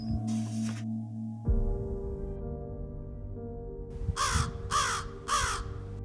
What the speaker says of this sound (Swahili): Kunguru ni miongoni mwa ndege wenye ubongo mkubwa zaidi katika jamii za ndege mbalimbali